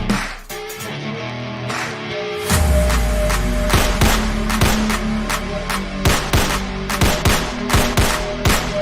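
Gunfire at an extreme gun shooting competition held by Sindh Police and SSU: loud, sharp reports arrive in quick irregular bursts over a low background rumble.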